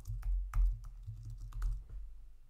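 Quick clattering keystrokes on a computer keyboard while writing Rust code with Serde, a steady run of close, fairly quiet taps with a few louder hits, no talking.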